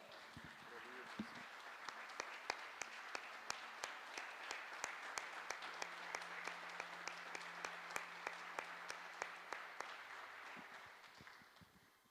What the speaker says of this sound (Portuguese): Vamos aplaudir o Pai, o Filho e o Espírito Santo?